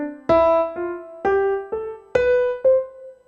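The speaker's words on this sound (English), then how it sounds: "So if I were going to alternate with using accents and sforzandos, it would sound something like this." Six played notes alternating accents and sforzandos, each with a sharp attack that then decays, the stronger sforzando hits standing out slightly with extra force.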